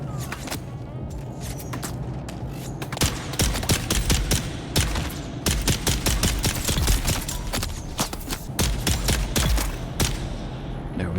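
Rapid, sustained gunfire from a gun in the Dune Awakening video game: dense volleys of sharp shots fire continuously throughout with no speech.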